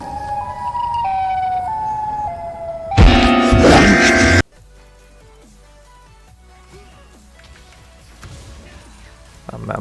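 A loud siren wail rises over game music and effects for a couple of seconds, then cuts off, leaving quieter tones and clicks.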